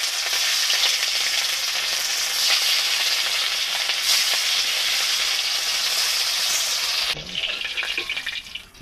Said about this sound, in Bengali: এবার আমি সব কটা মাছ কড়াই তুলে দেবো, দিয়ে ভেজে নেবো।